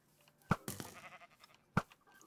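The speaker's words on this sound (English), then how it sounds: "Look at all these sheep." Sheep bleat inside a video game, two short separate bleats about a second apart with some faint rustling between, heard quietly at a low level.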